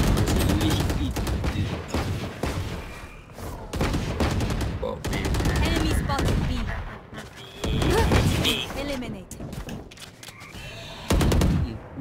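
Rapid bursts of gunfire from a shooting video game crackle and thud loudly in clustered volleys, with brief gaps and a voice talking between the shots.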